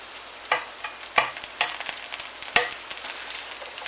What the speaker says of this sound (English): Now we cook the tomatoes and the mushrooms for 5 minutes like that